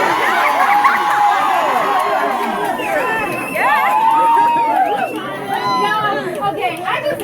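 Lively live crowd at a poetry performance, a dense wash of chatter, whoops and cheering voices that holds steady throughout.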